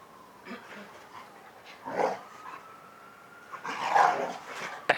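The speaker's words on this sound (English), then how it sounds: "What kind of dog is this one? Like a mix? I think they told me one time, I think like a Dalmatian poodle something." A Dalmatian poodle mix dog makes a few soft barks and growly panting sounds at moderate distance, rising toward the end over a steady background hum.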